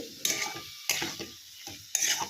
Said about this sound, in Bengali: এইবার মাশরুমের সঙ্গে এটা ভালো করে কষাবো